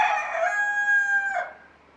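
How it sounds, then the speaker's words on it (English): A single rooster crows close by in one clear, drawn-out cock-a-doodle-doo on an off-grid homestead, ending abruptly into quiet. "we got way too many roosters."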